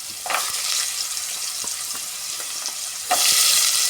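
Carrots and potatoes sautéing in a pan for a vegetable biriyani, giving a steady, close frying sizzle with occasional soft stirring taps, swelling louder near the end.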